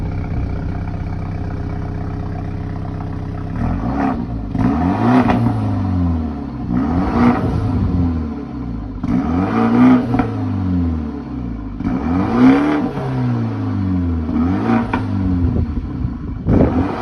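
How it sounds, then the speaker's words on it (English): A 2023 BMW 230i fitted with a factory 2022 Toyota Supra 3.0 twin-scroll turbo exhaust idles steadily, then revs in five repeated throttle blips, each rising and falling, loud and close with no talking. "we're gonna rev it"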